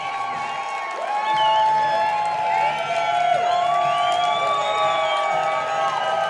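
A minor-league baseball crowd at a Glacier Range Riders home game applauds and cheers, a sustained roar of clapping with whistles and high whoops rising and falling throughout, loud and close, with no voices standing out.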